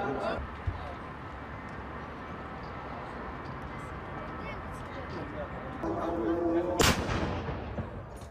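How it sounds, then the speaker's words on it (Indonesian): Outdoor crowd murmur in a town square, then one sharp, heavy boom of a traditional Ramadan cannon firing near the end that echoes briefly. "tradisi meriam digelar."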